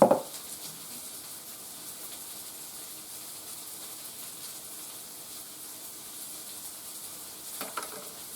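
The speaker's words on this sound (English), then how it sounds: "I'm just going to stir and mix." Mustard sauce in a hot pan giving off a soft, steady sizzle with faint stirring scrapes, a brief clatter at the start and a light knock near the end.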